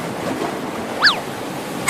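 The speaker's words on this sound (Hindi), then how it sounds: "देख बाढ़ का पानी बढ़ता ही जा रहा है" Rising flood water in a cartoon: a steady broadband rush of waves and surf, with a short bright whooshing chirp partway through.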